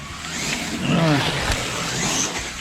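A slot car races around its track under light throttle, giving a fast whining motor sweep that rises and falls as it passes, with a voice briefly audible underneath.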